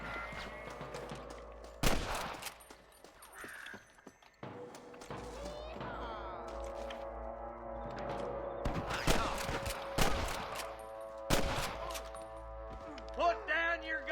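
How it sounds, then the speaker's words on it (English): Gunfire in the Red Dead Redemption video game rings out as sharp, loud shots and volleys, scattered and irregular through the stretch, with voices shouting over the fighting. "I can hear more gunshots."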